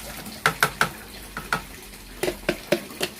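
A mixture being beaten and stirred in a can gives quick, sharp tapping strikes, around nine in short clustered bursts, close and moderately loud.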